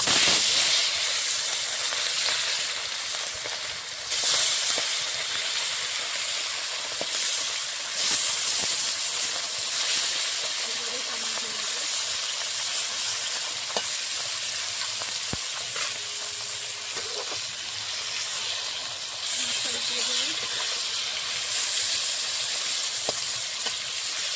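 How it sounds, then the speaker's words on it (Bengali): Rohu fish frying in white oil in a wok, giving a steady, close sizzling hiss with soft crackles and occasional stirring scrapes throughout, with no talking. "কড়াইতে দিয়ে দিচ্ছি সাদা তেল মাছ ভাজার জন্য।"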